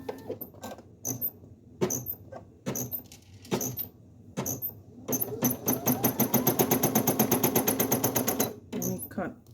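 Single-needle embroidery machine stitching a design on a shirt sleeve, with a fast steady mechanical clatter of the needle that starts and stops in short bursts, then runs continuously for several seconds, close and loud, with a person talking at the start.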